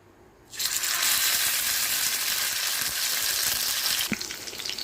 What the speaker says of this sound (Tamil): அது இதில் சேர்த்து எண்ணெயில் போட்டு நல்லா பொரித்து எடுத்துக்கலாம்.